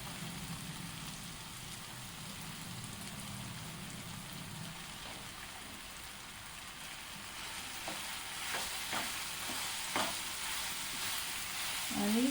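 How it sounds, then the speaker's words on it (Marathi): Okra (bhindi) is added to a pan and sautés over a low gas flame, giving a soft steady sizzle with a few stirring scrapes and clatters near the end and no talking. "आता आपण भेंडी घालणार।"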